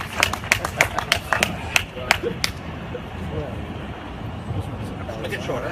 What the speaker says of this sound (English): Please put your hands together and give a big applause to welcome him.